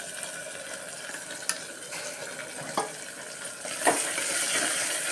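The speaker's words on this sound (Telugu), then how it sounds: "ఇది బాగా ఫ్రై అవ్వాలండి." A fish curry base of garlic, onion and ginger paste fries in a pan, giving a continuous moderate sizzle broken by a few sharp scrapes of stirring.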